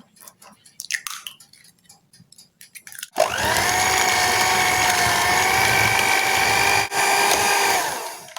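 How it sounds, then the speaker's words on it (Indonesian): An electric mixer beats egg into choux pastry batter, starting after a few soft clinks and scrapes and then running as a loud, steady, high whirring drone that briefly dips before continuing to the end. "Jadi ini dikocok sampai rata aja, nggak usah sampai mengembang."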